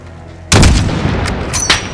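Gunfire in a Call of Duty battle on a highway: a loud sudden burst of shots breaks out of near silence, followed by a rapid string of further cracks and booming echoes.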